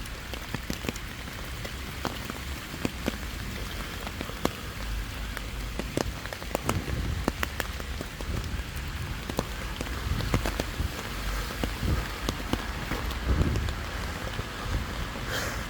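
Steady patter of rain falling on a hard surface in a stormy park arboretum, with scattered louder drops tapping close by and a faint breath of wind throughout; no voices.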